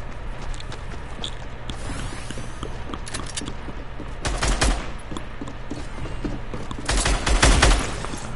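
Video game gunfire crackles in rapid bursts, with louder volleys around the middle and near the end, over a steady background hum and no talking.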